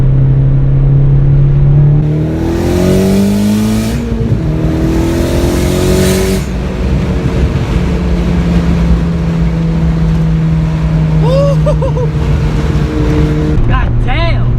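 A VW MK4 Jetta 1.8T on racing tires accelerates hard on a sunny day, its engine climbing loud and close through repeated rising sweeps with gear-change dips, staying strong throughout.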